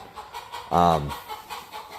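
A chicken lets out a single loud, drawn-out cluck close by in an outdoor yard, with quiet background noise before and after it.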